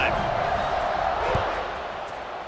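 A stadium crowd in a Hawaii vs Kent State college football video game keeps up a constant broad roar that swells briefly, then fades a little toward the end.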